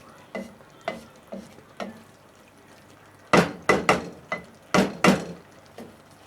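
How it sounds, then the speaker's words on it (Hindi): A spoon knocks and scrapes through pumpkin curry with raw mango in a pan, a few soft taps followed by a burst of louder, sharper clacks in quick succession, close by with no talking. "कैरी डालने के बाद मैं इसको कैरी साथ मिक्स करूँगी।"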